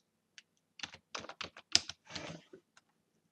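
Bursts of keystrokes on a computer keyboard, a quick run of clicks in uneven clusters with short pauses, close and clear with no talking.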